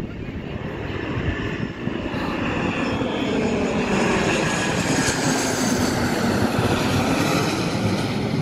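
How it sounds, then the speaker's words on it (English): A Qantas Boeing 717 airliner arrives at night, its jet engines making a steady loud roar that holds level and close throughout, a broad rushing drone with no voices over it. "here comes a Boeing 717 from Qantas"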